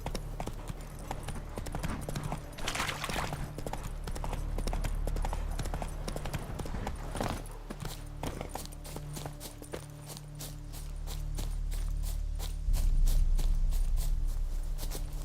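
Roach, a horse in The Witcher 3, gallops with rapid, rhythmic clip-clop hoofbeats that speed into a steady run, clear and close, with faint background ambience.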